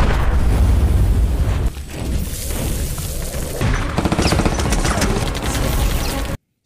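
Loud, dense gunfire and booming explosions from a film's fight against vampires, continuous crashes and rapid shots, ending abruptly in silence.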